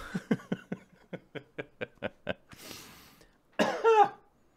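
A quick series of about ten short, sharp coughs, followed by a breathy pause and one final louder, rougher cough close up.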